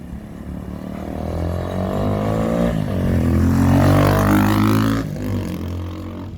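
The engine of a barn-find VX 250 Vixen motorcycle runs loud and close, its steady throaty note rising and falling with rev changes over a deep low rumble, with no voices.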